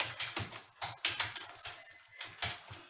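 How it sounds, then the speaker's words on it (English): Fingers type on a computer keyboard while entering Python code into a CircuitPython board, producing a steady, irregular patter of close key taps with no voices. "I'm typing in a function definition now"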